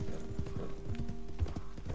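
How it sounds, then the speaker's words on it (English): Hooves of a black Arabian horse cantering in Red Dead Redemption 2, a quick repeating clip-clop rhythm over a background of music. "having a canter"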